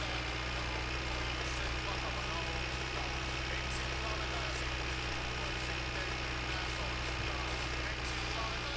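Tractor engine in the video game My Winter Car, running at night near a trailer and log splitter: a steady, droning low rumble, continuous and unchanging, with faint higher hiss above.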